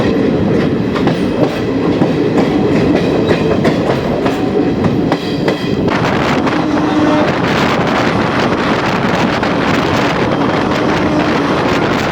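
A sleeper coach train rolls slowly along the track during maintenance work, a loud continuous rumble with rattling carriage noise and wind buffeting, heard from inside the coach with no talking.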